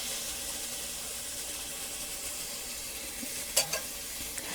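Onions and garlic fry in oil in a pan for red beans and rice, a steady close sizzle broken near the end by a couple of brief scraping stirs.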